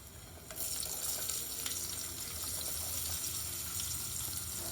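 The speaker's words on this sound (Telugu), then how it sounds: "చిన్నగా కట్ చేసుకున్న ఆనియన్స్ వేస్తున్నాం" Finely chopped onions hit hot oil in a pan and start to fry, a sudden sizzle that jumps up and then holds as a steady, close crackling hiss.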